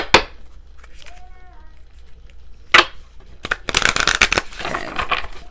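A deck of tarot-style cards is shuffled, with scattered taps and clicks building into dense bursts of riffling and sliding card noise, fairly close and clear, with a brief voice early on.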